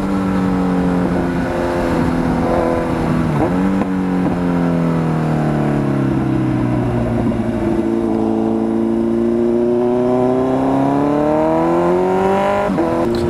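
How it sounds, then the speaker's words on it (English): Straight-piped Kawasaki Z900 motorcycle being ridden, its loud engine droning close up and rising and falling in pitch as it downshifts through gears, with sharp blips between shifts and no talking. "Oh, here we go, we can have some downshifts here."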